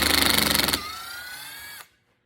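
A Milwaukee drill driving a screw into wood, a pulsing broadband burst settling into a steady whining motor run that winds down and cuts off abruptly after nearly two seconds.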